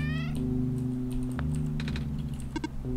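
A cat in a video game lets out a harsh, demonic meow-like cry, tonal and wavering at the start, over a steady low musical drone with scattered clicks and short bright blips.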